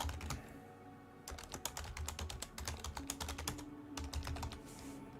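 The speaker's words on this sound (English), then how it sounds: "I am horrible at typing." Rapid clattering keystrokes on a computer keyboard, close and fairly quiet, coming in uneven bursts with short pauses between them and no voices.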